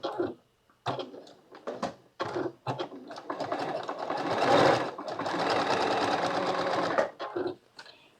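A home sewing machine stitches a quilt block in short start-stop bursts at first, then a long steady whirring run of stitching before slowing and stopping, with no talk over it.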